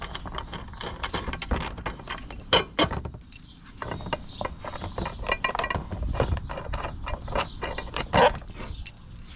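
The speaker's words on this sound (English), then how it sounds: "To start the installation, you will go ahead and remove the nuts from the screws." Metal nuts spun off screws by hand for a Can-Am Maverick X3 Max lower door panel kit, giving dense rapid clicking and ratcheting clinks, close and continuous with a few louder snaps.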